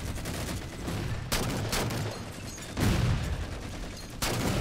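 Halo 4 DMR rifle fire in a video game: a few loud single shots spaced about a second and a half apart over a steady bed of game noise and ambience, with no talking.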